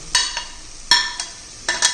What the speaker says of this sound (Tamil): இப்போ நம்ம நறுக்கி வச்சுருந்த மஷ்ரூம் காளானை இதில் போட்டுக்குருவோம்.